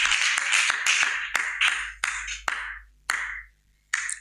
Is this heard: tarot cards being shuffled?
no